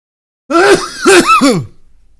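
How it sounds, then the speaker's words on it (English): A close, harsh fit of rough coughing and throat clearing in a few strained bursts, then trailing off into quiet. "What is a little bit of coughing?"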